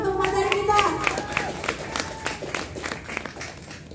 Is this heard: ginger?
no